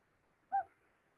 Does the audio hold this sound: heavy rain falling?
no